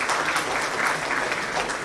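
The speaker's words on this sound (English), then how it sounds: "Come on, you've got to give a round of applause for that." An audience applauds at a launch event, dense and steady clapping throughout, loud and close, with no voices.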